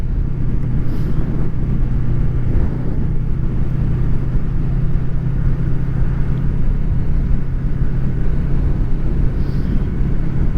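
A Honda VFR800 motorcycle with a quick shifter, heard while riding as a loud, steady engine drone and rumble mixed with heavy wind noise, with no clear gear change standing out.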